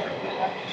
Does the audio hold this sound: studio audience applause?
no